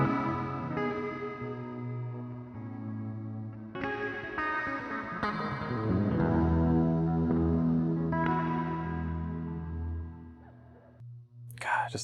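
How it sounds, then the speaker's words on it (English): An electric guitar plays sustained chords and notes through a Haunted Labs Dark Aura modulation pedal, the swirling effect giving the tone a wide, shimmering, layered sound. "It's a really nice like widening effect on the sound."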